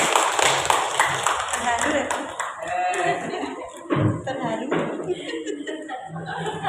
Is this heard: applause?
yes